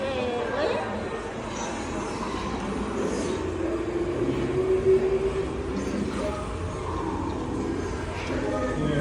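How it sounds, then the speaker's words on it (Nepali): A train rumbles along beneath buildings in New York City, a steady low roar with a faint squeal midway, while people chat nearby. "यहाँ बिल्डिङ भएन मुनि चाहिँ ट्रेन चलेको हेर्नु न"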